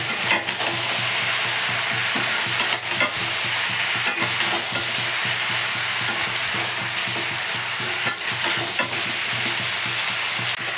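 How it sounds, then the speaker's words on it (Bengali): Bottle gourd greens, stems and leaves, stir-fried with spices in a hot pan: a steady, loud, continuous sizzle with constant stirring and no talking. "মশলা ফসলা দিয়ে লাউ শাকটাকে একটু দিয়ে দিলাম, ডাঁটিগুলো আর পাতাগুলো একটু নেড়ে ছেড়ে নেবো"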